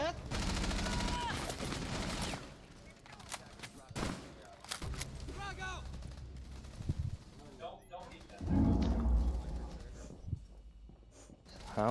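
Bursts of gunfire from a high school esports video game match, sharp volleys and rapid shots scattered across the stretch, mixed with excited voices talking over the action.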